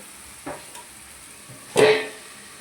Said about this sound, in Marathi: असं हलवून घेऊ.